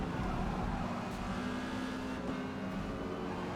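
An Exocet racing car's engine in Forza Motorsport, racing in B class at Lime Rock, hums as a steady, fairly quiet drone with a sustained tonal whine and no voices.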